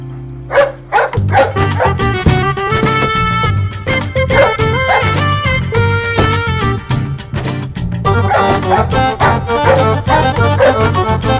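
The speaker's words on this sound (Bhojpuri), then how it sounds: "पिंटुआ भुखाइल बा, बहुत भौंकता।" A hungry dog barks loudly and repeatedly in a Bhojpuri film scene, the barks rising over a sustained tonal backing that fills the whole stretch.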